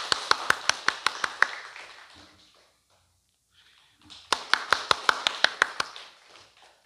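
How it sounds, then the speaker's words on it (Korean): A church congregation claps in quick, evenly spaced sharp beats, about a dozen claps in a burst. A near-silent pause follows, then a second similar burst of rhythmic clapping fades out. "박수로 우리 격려합시다."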